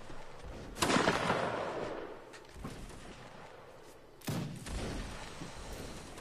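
Cannons fire during a Napoleonic Wars video game siege battle, two heavy booms a few seconds apart with long rumbling decays and scattered distant battle noise between them.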